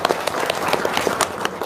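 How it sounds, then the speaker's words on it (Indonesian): A seated group at a gathering bursts into brisk clapping, many hands patting in a dense, even burst that is close and fairly loud. "Wow, tepuk tangan dong."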